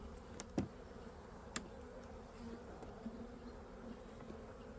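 Honeybees in an overwintering dual-queen hive give a low, continuous buzz, faint and close, broken by a couple of sharp knocks near the start.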